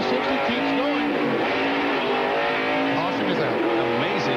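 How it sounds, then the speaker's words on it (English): A NASCAR Winston Cup stock car spinning out during the 1994 Bristol night race, with loud engines roaring and tires squealing and skidding continuously while a commentator talks over the crowd noise. "the 15 car spins all around right in front of Wallace and Earnhardt"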